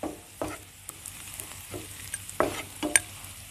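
Chicken being stirred and mixed with Kashmiri chili and spices for a chicken roast: soft scraping, stirring knocks and a faint sizzle in irregular bursts, fairly quiet and close, with no talking.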